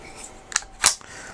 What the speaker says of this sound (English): if you watch that as I pull the slide back, it lifts up and then that will lock the bolt back.